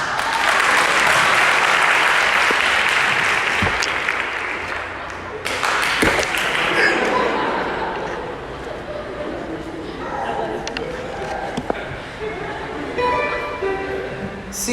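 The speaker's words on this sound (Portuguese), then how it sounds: "Eu vou aplaudir." Audience applause during a church sermon, a dense burst of clapping that is loud at first, then thins and fades while speech carries on over it.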